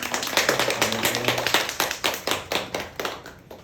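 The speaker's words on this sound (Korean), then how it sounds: "박수" Applause from an audience welcoming a novelist at a bookshop book talk, a burst of many hands clapping up close, thinning out toward the end.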